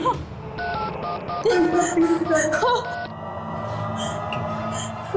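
Short electronic keypad tones beep in a quick series of distinct pitches, like numbers being dialed on a phone, with voices and background noise underneath.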